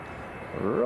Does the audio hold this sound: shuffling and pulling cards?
no